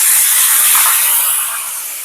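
Bowl-rinsing water poured into a hot pan of ground spices and turmeric for a vegetarian vegetable curry, bursting into a loud, close steamy hiss that slowly fades.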